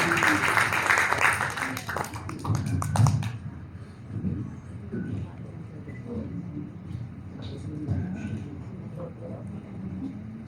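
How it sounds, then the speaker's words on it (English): Audience applause at a talk on vestibular rehabilitation with prayer movement, a burst of clapping for about three seconds that then gives way to quieter room noise and faint talk. "A round of applause."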